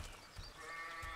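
Sheep bleats from the Overlord video game, brief and mid-distance, set against a steady game ambience with soft low rumbles and no talk.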